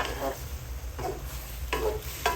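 Tongs stir adobong kangkong with mushrooms in a pan, giving three soft scraping, tossing bursts over a low steady sizzle, close and moderately quiet.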